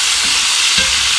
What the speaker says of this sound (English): We're going to saute these down till they're nice and tender.